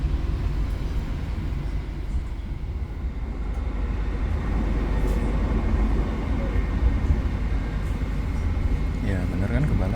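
A KRL commuter train overtaking the Gaya Baru Malam Selatan train, heard from aboard as a continuous loud low rumble and rail roar building over the span, with a voice talking over it.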